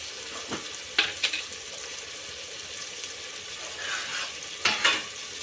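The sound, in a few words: stirring ginger paste into food in a pan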